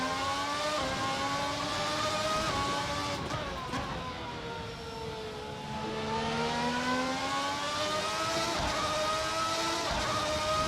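An early-1990s Formula One car engine in a sim racing game screams at high revs, pitch climbing through gears, dipping under braking and then rising again, steady and close with no talk.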